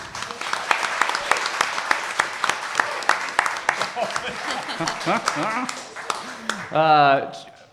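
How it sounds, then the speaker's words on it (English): Audience applause for a contestant at a live art competition grand finale, a steady burst of clapping that tapers off as a voice starts speaking near the end. "let's make another big round of applause for our next contestant"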